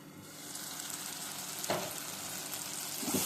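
Tomatoes with salt cook in a covered pan for a chicken curry, giving a steady close sizzle and hiss, broken by two short louder bursts, with no talking.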